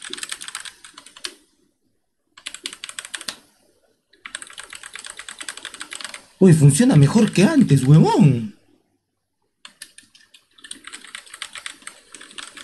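Bursts of clicky typing on a computer keyboard are heard near and dry, separated by pauses, with a loud stretch of a man's excited speech in the middle.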